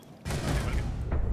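Rapid gunfire from a video game firefight bursts in abruptly, a dense, loud stream of shots with a short gap before more firing resumes.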